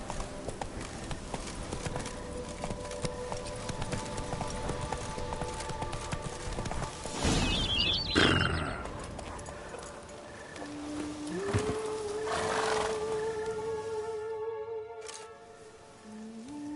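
Roach, a horse in The Witcher 3: Blood and Wine, gallops with steady clip-clop hoofbeats over a busy game soundscape, with a brief louder burst midway and a rising tone near the end.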